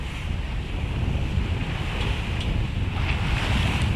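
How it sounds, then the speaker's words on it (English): Big ocean swells break near a harbor entrance on the Spanish coast, giving a steady, loud wash of surf with wind noise and no talking. "There's lots of breaking water on the shore."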